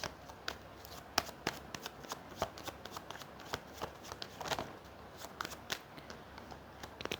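Tarot cards are shuffled by hand in repeated crisp riffles and slaps, a dozen or more sharp bursts in an uneven rhythm, close and fairly quiet with no talk over them.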